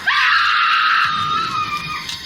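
A woman's long, piercing scream in a horror movie scene, loud and close, holding steady for about a second before trailing off amid rustling.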